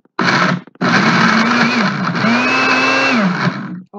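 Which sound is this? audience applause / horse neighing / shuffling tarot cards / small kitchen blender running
small kitchen blender running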